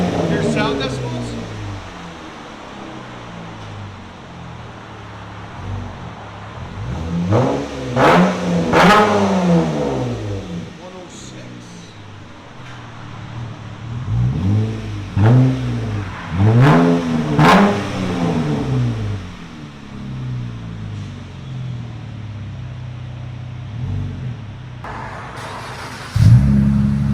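A 2013 Dodge Charger AWD with a 3.6L V6 and Purple Hornet glass-pack exhaust revs repeatedly, rising and falling in deep bursts over a steady idle. People talk near the car between and over the revs.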